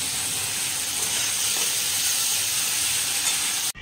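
Vegetables with salt and turmeric sizzling loudly in a pan while being stirred for a vegetarian chowmein, a continuous dense frying hiss close up that cuts off abruptly at the end.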